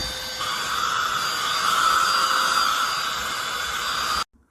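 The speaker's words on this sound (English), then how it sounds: "test out this vacuum with the built-in LED light and the rechargeable battery on a variety of different surfaces" Cordless handheld car vacuum cleaner with a rechargeable battery and built-in LED light, running as a loud, steady high-pitched whine and airflow roar, close, before cutting off abruptly at the end.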